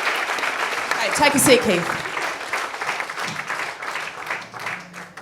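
Audience applause fills the room at a breakfast briefing on storytelling. It is steady and moderately loud throughout and peaks early on, while a presenter speaks over it.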